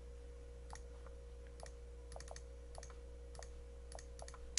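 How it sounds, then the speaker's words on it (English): Faint taps on a Windows Phone touchscreen keyboard come in a loose, irregular run of light clicks over a steady low electrical hum. "so you type in what you want to send to the server right here"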